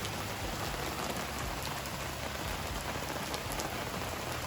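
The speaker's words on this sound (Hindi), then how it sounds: "यहाँ पे आप देख सकते हैं क्या ही मौसम हो रहा है, बारिश आ रही है एकदम।" Heavy rain pours down steadily, a dense, constant hiss of drops striking surfaces with no pauses or voices, filling the whole scene evenly and close by.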